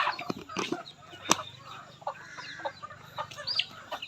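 Farm chickens cluck and squawk close by while being fed, in irregular bursts of varying loudness, with scattered rustling and taps between calls.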